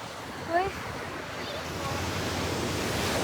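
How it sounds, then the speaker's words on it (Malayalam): Sea waves at Kozhikode beach, a steady broad wash of surf with wind buffeting the microphone, rising slightly toward the end; a brief voice-like sound early on. "അപ്പം ഇത് ഈ കടൽ മൊത്തം കോഴിക്കോട് കടലാണ്"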